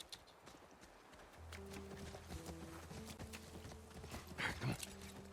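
Horse hooves clip-clop at a steady walking rhythm on the ground in the video game The Last of Us, moderately close and under quiet game music and ambience, with a brief snort near the end.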